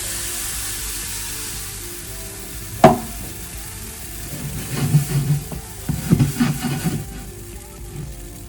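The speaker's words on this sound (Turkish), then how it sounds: "Şimdi döküyoruz tavamıza." Pancake batter hitting a hot pan makes a sharp sizzle burst followed by a steady frying hiss, with soft clinks and scraping from utensils and pan movement coming in a few bursts afterward.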